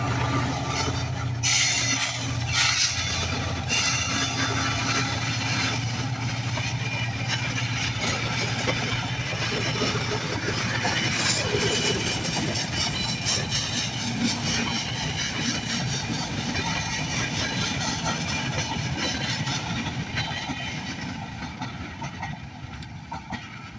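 Benapole Express passenger train bound for Kamalapur railway station, passing through a rural village, heard as a steady loud rumble with engine drone and clattering wagons that carries on throughout and eases slightly at the end.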